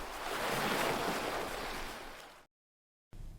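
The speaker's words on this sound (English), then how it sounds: "As he stood by the shore, mesmerized by the waves," Sea waves washing against a shore, a steady broadband surf roar swelling and fading, then cutting off abruptly into a brief silence before resuming.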